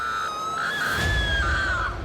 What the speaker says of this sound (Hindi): कितनी देर में उर्मिला के चिल्लाने की आवाज आई।